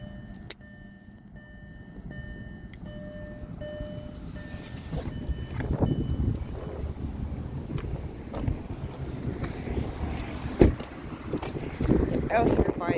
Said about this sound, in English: Oh, and it's windy out here.